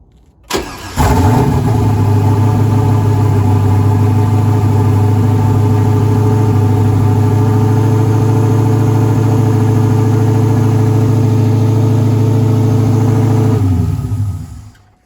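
Rebuilt turbocharged 2001 Camaro SS engine cranks and fires, then holds a loud, steady, slightly high idle with deep rumble for about twelve seconds before shutting off.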